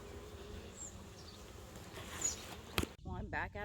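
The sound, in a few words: honey bees buzzing in a hive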